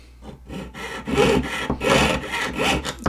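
A jeweler's saw with a waxed blade cuts in a steady back-and-forth rhythm, each close rasping stroke rising and falling in loudness, with no voices.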